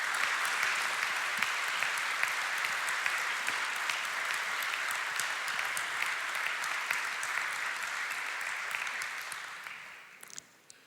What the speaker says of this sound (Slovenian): Prosim za skupno zahvalo v obliki aplavza.